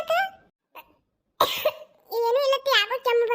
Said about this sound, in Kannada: ಯಾಕೋ ಕೆಮ್ಮು ಬಂತು ನೋಡು ಗಂಟಲದು